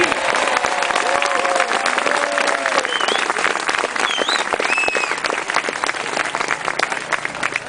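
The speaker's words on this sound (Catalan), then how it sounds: "Un aplaudiment, doneu-me ànims." A crowd applauding at a trial motorcycle event, dense continuous clapping that stays loud and even throughout, with a few faint whistles and voices mixed in.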